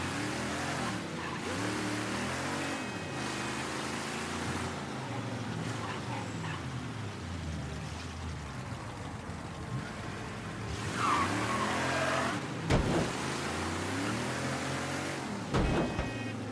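A car in the Mafia 3 video game drives with a continuous engine drone that rises and falls, with a few tire squeals and skids, fairly faint under quiet game dialogue.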